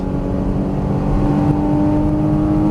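Porsche Cayman GTS engine on a racetrack, a loud, continuous drone with a steady pitch, heard from inside the car with no talk over it.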